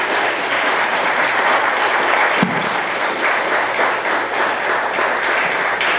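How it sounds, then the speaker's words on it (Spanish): Audience applause fills a lecture hall after a talk on Mexican history, a steady, loud wash of many hands clapping that holds evenly throughout. "Le damos un fuerte aplauso a Miguel"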